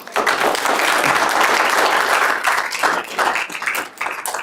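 An audience at a school board meeting applauds loudly, a dense burst of clapping that swells and fades in waves over several seconds, close and alone.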